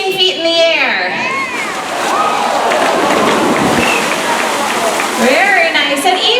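Several dolphins breach together in the center of a SeaWorld San Diego show pool, making a long, loud wash of splashing water with squeals and chatter from the crowd throughout.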